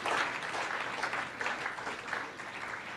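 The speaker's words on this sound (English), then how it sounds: "give yourselves a round of applause for sitting here today" Audience applause fills a hall at a patriotic pledging event, a steady wash of many hands clapping at close to medium distance, sustained evenly throughout with no voices over it.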